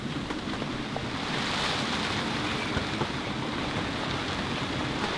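Gale-force gusts roar around a sailboat standing on the hard ashore, a constant loud buffeting rush with wind noise battering the microphone and no voices.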